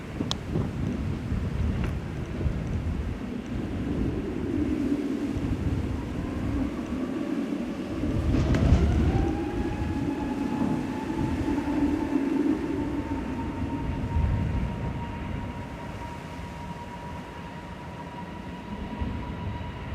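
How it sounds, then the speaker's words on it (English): An SAS jet departs Manchester Airport for Copenhagen, a broad distant roar with a rising engine whine building and then holding steady, heard outdoors under wind buffeting the microphone. "SAS SE Ron departing back to Copenhagen with flight 542 now"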